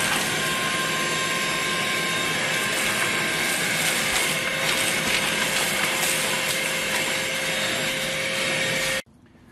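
A vacuum cleaner drones steadily and loudly with a high whine, running continuously before cutting off abruptly near the end.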